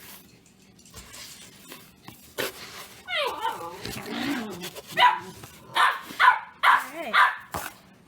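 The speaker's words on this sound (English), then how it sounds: "We have a new puppy. And he hasn't learned manners yet." A new puppy in a home kitchen whines and whimpers in rising cries, then lets out a run of sharp, close barks, with a person speaking briefly.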